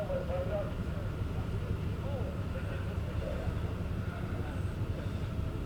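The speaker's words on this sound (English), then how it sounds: "As we hear the Homeland Security chopper go by again." A Homeland Security helicopter circles over a forest fire area near Altona Forest, its steady low rotor drone rumbling in the background beneath people talking.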